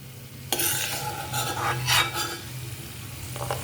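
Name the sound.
cashews frying in a pan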